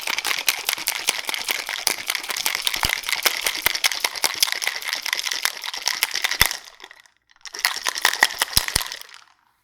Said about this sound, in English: Fill the shaker with ice. Shake the cocktail for 30 seconds.